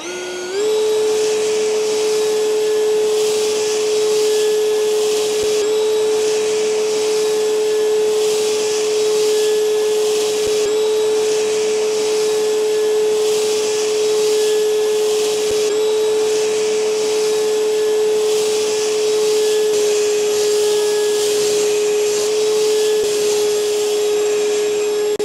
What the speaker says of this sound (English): Let's do the backpack blower.